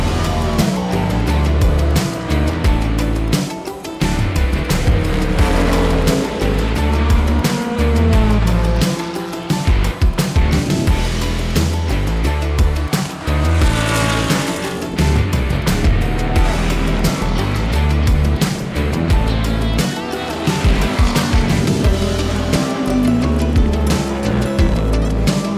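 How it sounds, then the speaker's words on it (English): Hypercars and GT3 race cars circulating slowly at an F1 circuit under a virtual safety car, loud engine drone and passing roars rising and fading continuously, heavy wind buffeting throughout. "we're under virtual safety car now, so the cars are kind of just putting around"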